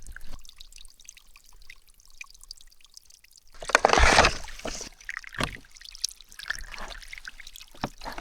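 Water pours into a can at a camp inside a cave, a brief loud gush breaking a quiet stretch, followed by a few smaller splashes and trickles.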